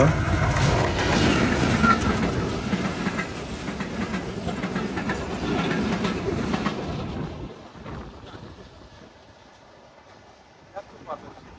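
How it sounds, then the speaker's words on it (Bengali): A train racing through winter morning fog past a village, loud rumbling wagons and clickety-clack for several seconds before the sound drops away to quiet rural ambience. "এই কুয়াশা ভেদ করে ট্রেনটি কি দ্রুত বেগে ছুটে আসছে"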